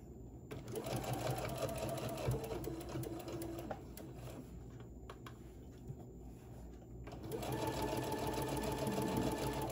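Sewing machine stitching along the top edge of fraying fabric for Santa bags, a fast steady whirring run that pauses briefly in the middle and then resumes, close and clear with no voices.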